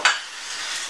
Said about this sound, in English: And carry on stirring.